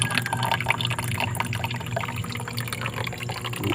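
Water pours and splashes steadily from a household tap or pipe during a months-long water supply problem, a continuous close rushing flow with no voices heard.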